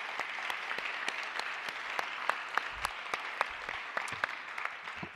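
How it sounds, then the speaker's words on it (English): At the Real World Crypto 2020 cryptography conference, the audience claps for the speakers and sponsors: a soft, sustained spread of many hands, with distinct sharper claps popping out irregularly close by, and no talking. "give a big round of applause to all the speakers and the 36 sponsors"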